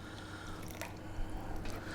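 A little water trickles and drips into pureed vegan beetroot soup to thin it, a soft close liquid splash and squish lasting about two seconds, heard alone.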